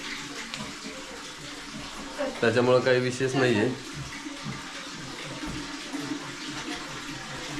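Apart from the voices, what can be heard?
running tap water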